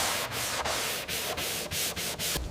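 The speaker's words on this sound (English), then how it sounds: "Block sanding removes the guide coat evenly" Steady block sanding of filler on a car body panel of a 1963 Bentley S3 Continental, a dense close-up rasping scrape repeated in rhythmic strokes about three per second with brief pauses between passes.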